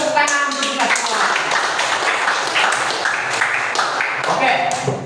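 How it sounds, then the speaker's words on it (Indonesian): A classroom group of students claps hands together in a steady, continuous burst, close and fairly loud, with voices and chatter mixed throughout. "Tepuk tangan untuk kita semua."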